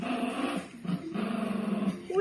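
A puppy whines and whimpers, begging for play, in a few drawn-out, close whimpering sounds over soft background noise.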